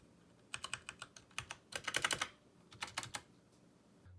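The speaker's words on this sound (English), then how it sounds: "the only downfall of this keyboard, since it is fully mechanical, it is kind of loud when you hit the keys" Keys clatter on a fully mechanical keyboard, loud and close. A sparse run of clicks leads into a dense fast burst, then a few more scattered strokes.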